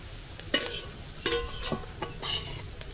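Momo filling frying in oil in a pan, short sizzling bursts and scraping stirs at irregular intervals, fairly close, with quiet gaps between strokes.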